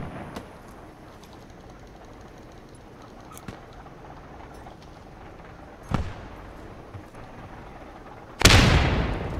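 Mortar barrage and gunfire in the World War II shooter game Post Scriptum, heard as scattered distant pops and thuds building to a loud, close explosive blast at the end.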